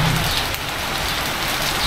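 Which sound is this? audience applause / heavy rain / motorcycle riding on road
heavy rain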